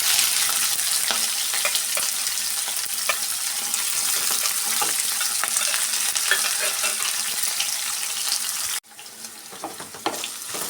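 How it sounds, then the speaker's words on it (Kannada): Onions and green chillies fry in a pan for shavige bath, a steady loud sizzle with scattered stirring scrapes that drops abruptly quieter near the end. "ಎಲ್ಲ ಸೇರಿಸಿ ಚೆನ್ನಾಗಿ ಫ್ರೈ ಮಾಡ್ಕೊಳ್ಳೋಣ."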